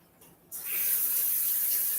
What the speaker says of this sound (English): I got to wash this pan, my cutting board,